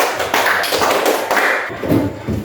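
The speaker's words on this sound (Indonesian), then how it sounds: "Ya, kasih aplaus untuk kelompok" A classroom of students applauds a group of classmates, with steady, dense clapping that fills the room at close range for a couple of seconds.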